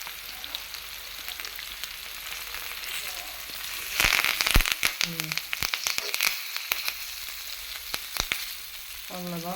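Masala-coated fish frying in hot oil, a steady dense sizzle throughout with louder crackling and popping bursts in the middle, close up.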